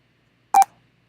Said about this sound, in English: And now let's make our console beep a little bit.